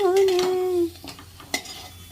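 Potatoes frying in a karahi produce a soft sizzle under a short sung phrase, followed by a couple of sharp scrapes and clanks as a utensil turns them against the pan.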